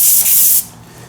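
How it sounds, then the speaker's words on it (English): A can of brake cleaner sprays onto a rag during a Honda Integra B20 VTEC engine build, giving a loud hissing burst of about half a second that cuts off sharply into quiet. "I'm gonna spray the rag"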